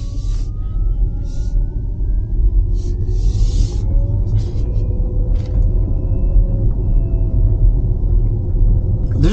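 Inside a 2022 Lucid Air on the move, a thin electric-motor whine rises and glides over steady low road rumble, faint but continuous throughout.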